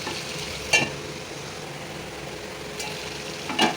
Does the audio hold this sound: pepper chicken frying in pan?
yes